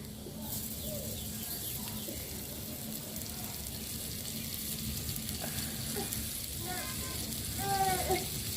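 Peeled garlic frying in oil in a village kitchen, a continuous moderate sizzle running throughout, with faint talk and bird calls in the background.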